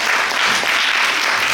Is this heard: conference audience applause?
yes